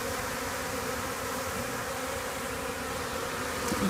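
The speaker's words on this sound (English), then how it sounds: "You can see all the bees around their sugar water." Honeybees from a newly installed package hive crowd around sugar water, their steady buzzing forming a dense, continuous drone close by with no talk.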